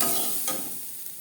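Quick stirring of pea greens frying in a hot pan, a steady sizzle with a scrape of the utensil near the middle, heard close and alone.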